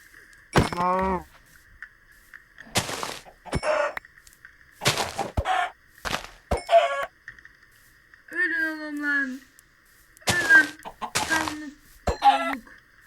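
Minecraft chickens give short, separate clucks and squawks scattered across the stretch, each brief and sharp against near silence with a faint steady tone underneath.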